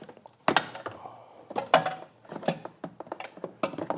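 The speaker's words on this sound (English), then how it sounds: "this entire air box is held in by rubber grommets. So you're just gonna pry up on this" Prying up the air box on a 2021 Toyota Supra, held in by rubber grommets, gives a run of close, irregular plastic knocks, thunks and creaks with sharp pops as the grommets let go, with no talk.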